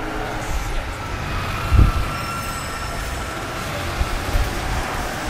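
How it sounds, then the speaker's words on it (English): Train passing by in the video game DmC, a loud rumbling roar with wheel noise and a brief heavy thud, over a continuous mechanical background. "but a train suddenly passes by"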